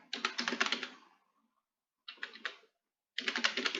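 Python code typed on a computer keyboard in three bursts of rapid, close key clicks separated by brief silences, with no speech.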